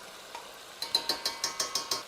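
Pork sautéed with tomato paste in a pan, stirred in a run of seven evenly spaced scraping, clicking strokes of a utensil against the pan, close and fairly loud.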